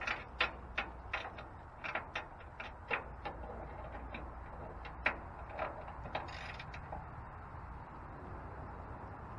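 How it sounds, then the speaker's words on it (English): Ratchet clicking as lag bolts are undone beneath a DIY camper, a close series of quick sharp ticks in short uneven bursts over a steady low background hum, with no talking. "we're going to go ahead and ratchet this off"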